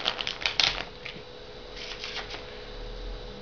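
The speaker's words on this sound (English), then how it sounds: "Give them a good shuffle to make sure that they are not fixed in any way." A deck of playing cards being shuffled by hand, a quick papery riffle and flutter in the first second, then softer scattered card rustles fading into quiet room tone, with no talking.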